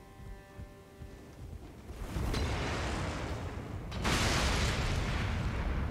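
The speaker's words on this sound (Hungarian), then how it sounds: "Na most fölrobbant." An explosion goes off in the video game Elden Ring at Stormveil Castle: a deep, rumbling blast swells in, then surges louder a second time, with no talk over it.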